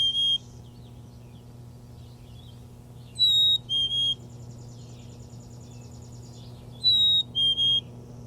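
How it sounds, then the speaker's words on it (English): A tufted titmouse whistles a loud two-note song, repeated three times at intervals, clear and close over a low background hum. "We are drawn to a new whistled song, a loud Peter, Peter."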